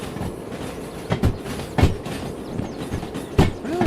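A train rolling on rails in the Derail Valley video game, a low steady rumble with several distinct clacks and faint wheel squeals, heard without talk.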